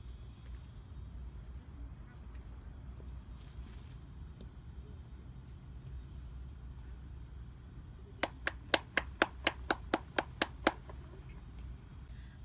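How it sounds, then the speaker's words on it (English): Eleven sharp hand claps ring out at an even, quick pace near the end, close and crisp against a quiet room hum after a stretch of near silence. "Now, my friend will start the watch on my first clap and stop the watch on my last clap."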